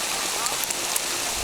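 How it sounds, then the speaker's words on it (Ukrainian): Cold autumn rain mixed with snow falls as a steady, dense hiss, with small scattered taps of drops on surfaces outdoors and no clear voices. "Дощ дуже холодний."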